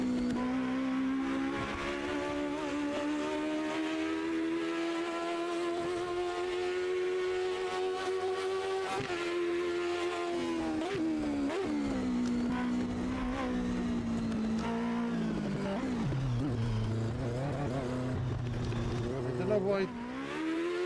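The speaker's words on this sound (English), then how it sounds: "that was a lap of Le Mans in the Mazda" A Mazda race car laps Le Mans in Automobilista 2, its engine droning loud and steady as the pitch climbs through the gears, drops on upshifts and braking, then rises again, with a voice talking over it.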